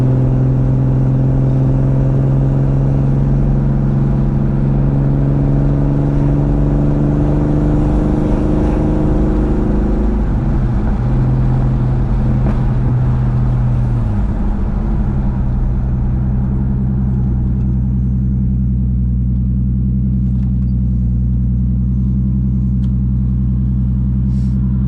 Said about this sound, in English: this is what the car sounds like idling